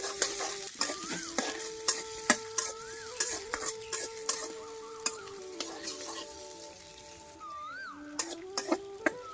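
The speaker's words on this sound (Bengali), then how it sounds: "এখন এগুলোকে একটু ভেজে নেব কিছুক্ষণ।" Onion, garlic and sliced green chilies frying in oil in a pan, with a steady sizzle under repeated sharp clinks and scrapes of a spatula stirring against the metal.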